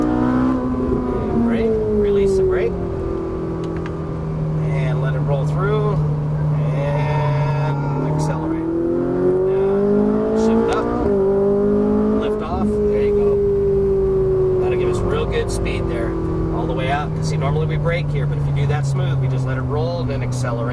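A Ferrari 458 Italia on a race track revs and accelerates, its engine note climbing in pitch through several sweeps and easing back, loud and close, with an instructor talking over it.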